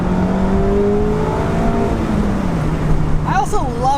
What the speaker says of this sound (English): I also love revving out this engine.